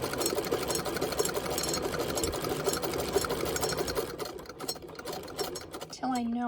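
A sewing machine stitches down vintage feedsack fabric for a coin purse, its needle whirring in a steady, close, continuous run that slows toward the end, where a voice briefly speaks.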